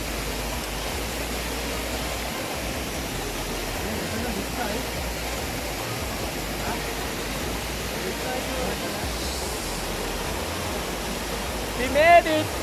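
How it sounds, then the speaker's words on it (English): A waterfall runs inside a tea estate in Torrington. Its water rushes in a steady, even roar at moderate level, with a short burst of louder noise near the end. "Now we are going to go from this is one side of the waterfall. It's coming from here and going down where we came from this side."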